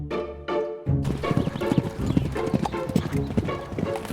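Racehorses clop along, hooves beating in quick, uneven runs from about one second onward. Two short tonal bursts come first, and the hoofbeats stay prominent and close with a bright clattering edge.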